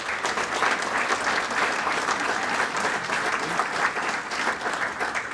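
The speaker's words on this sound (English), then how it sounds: "I'd like everybody to give Stacy a round of applause" Sustained audience applause at a Hall of Fame dinner, dense steady clapping from a crowd, loud and continuous throughout without pause.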